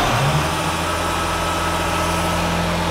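A car engine turns over and catches, then settles into a steady, loud idle with a constant low hum and rumble, heard up close during a routine fluid-level check.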